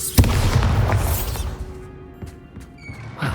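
A Bombarda spell explosion in Hogwarts Legacy: one sharp, loud blast opens the sequence, followed by crackling debris and a few smaller impacts that fade out, with no voices.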